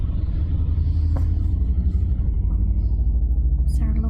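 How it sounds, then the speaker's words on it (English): A pack of Harley-Davidson motorcycles rumbles past nearby, a deep, loud, continuous engine drone with brief higher revving near the end. "It's our local Harley gang."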